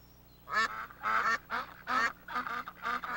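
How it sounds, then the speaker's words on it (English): A family of ducks quacks in a loud, bouncy series of about six nasal calls spaced evenly across a few seconds, with no other sound around them. "Who's making that sound? A family of ducks."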